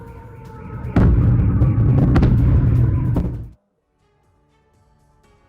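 A loud blast from the Russia-Ukraine war erupts into a heavy rumbling roar with sharp cracks, sustained for a few seconds before cutting abruptly to near silence.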